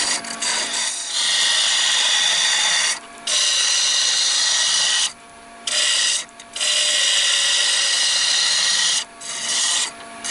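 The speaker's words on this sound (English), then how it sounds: "now I've just got to remove the excess wood from the bottom to the beads that I've created" A block of wood spins on a lathe as excess material is cut away below carved beads to shape the base of a replica Dr Who Dalek: close, steady raspy cutting broken by several brief pauses, with no talking.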